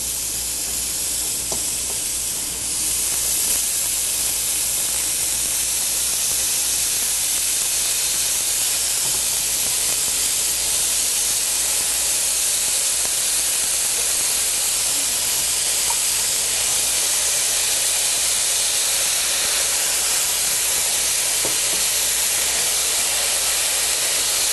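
Ground beef sizzles steadily in a hot pan, a loud continuous crackling hiss that barely changes for the whole stretch, with no voices.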